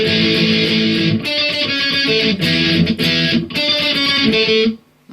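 Distorted electric guitar slowly playing a verse with power chords, the chords chugging in short, choppy bursts with brief gaps between, loud and close with no talking.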